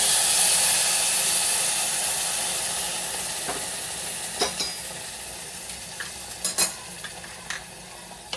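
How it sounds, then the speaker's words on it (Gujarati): Hot water poured onto roasted broken wheat in a pressure cooker for sweet lapsi bursts into a loud steamy sizzle that gradually fades, followed by a few scattered clinks and stirring sounds near the end. "હવે આપણે એમાં ગરમ પાણી એડ કરવાનું છે"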